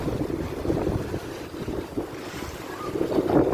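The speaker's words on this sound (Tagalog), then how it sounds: "kaya amo ni mapaskog ang alon, mapaskog ang hangin" Strong wind buffets the microphone over rushing sea waves, a steady loud roar with surging gusts and no voices.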